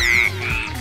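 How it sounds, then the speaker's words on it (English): Cartoon frog gives a single short bright croak with a falling sweep, loud and close, alone without talk. "it's our old pal Blue, but as a frog"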